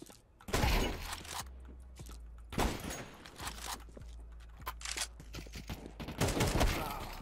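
Counter-Strike 2 gunfire comes in loud, close volleys of sharp shots, with quieter scattered pops and thuds between the bursts.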